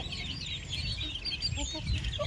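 Country chickens cluck inside a hen cage on a native-poultry farm, soft scattered clucks and chirps over steady background noise, faint and close.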